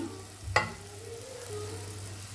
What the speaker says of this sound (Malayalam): ഈ പൊടികളുടെ ഒരു പച്ചമണം മാറുന്നത് വരെ നമുക്കിതൊന്ന് വാട്ടിയെടുക്കണം.